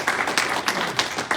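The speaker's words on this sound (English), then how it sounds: "A round of applause for my girl," Applause from an audience at a workplace-violence talk for firefighters, greeting a volunteer named Tori; a brief, moderately loud patter of clapping with a few sharper claps standing out.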